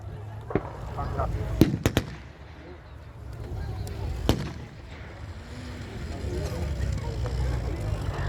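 Gunfire at a WW2 battle re-enactment, with scattered sharp reports, a few close together and one later, rising over a rumbling outdoor background with low-level noise and no clear talk.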